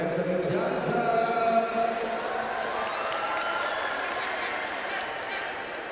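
A crowd at a professional basketball semifinal in an arena claps and cheers steadily, a broad sustained wash of applause with a commentator talking over it throughout.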